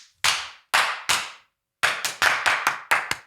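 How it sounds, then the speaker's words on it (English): Sharp, loud hand claps for audio sync ring out close by during a podcast recording: three spaced claps, a pause, then a quicker burst of about seven more. "Could one of you give us a big clap for a sync?"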